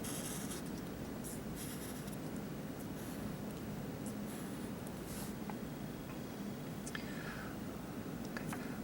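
Pencil drawing lines of an isometric drawing on paper, a faint, steady scratching that continues throughout with soft strokes and no talk.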